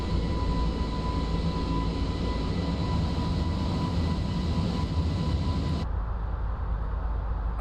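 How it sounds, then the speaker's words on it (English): Airbus A320 jet engines at full power in a flight simulator, a loud, steady broadband roar with a thin whine, holding constant before dropping sharply in level near the end. "They just heard the engines go full whack."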